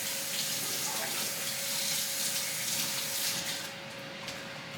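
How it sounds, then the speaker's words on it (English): Water gushes from a kitchen sink tap during handwashing while cooking meatloaf, a steady close hiss that runs unbroken and eases slightly near the end, with no talking. "I'm going to stick this in my sink. Wash my hands real quick."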